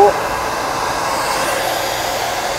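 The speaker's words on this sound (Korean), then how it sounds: "드라이기를 이용해서 위에서 바람을 주시고" A hand-held hair dryer blows onto hair from above during roll-brush volume styling, giving a loud, steady whooshing hum that runs continuously from start to finish.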